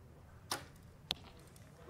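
A recurve arrow is loosed at an Archery World Cup final in Paris: a sharp release snap, then a crisp impact on the target about half a second later, over a quiet outdoor background.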